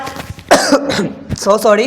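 Cough from a man with a cold, one short harsh burst between bits of Hindi speech, close and loud.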